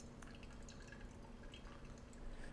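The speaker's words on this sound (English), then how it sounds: "make sure your stream of water is nice and steady" A thin, steady stream of water pours over coffee grounds in a pour-over brew, a faint continuous trickle with soft dripping close by.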